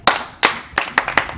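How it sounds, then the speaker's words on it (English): A small group clapping in a few short, sharp bursts, close and loud, with brief gaps between the rounds of hand claps. "Clap for him."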